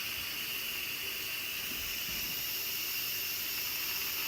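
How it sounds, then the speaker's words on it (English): Steady broadband hiss of steam venting from an Instant Pot's pressure release valve while cabbage soup cooks, continuous and fairly even throughout. "Here on the valve it steams out."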